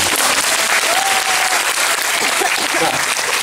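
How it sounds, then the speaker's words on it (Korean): Audience applause at a special curtain call for the Korean musical Bad Magnets fills the theater as a dense, loud, continuous wash of clapping. Faint cheers and voices rise from the crowd. "그럴 때 박수 한번 쳐주셔도 돼요."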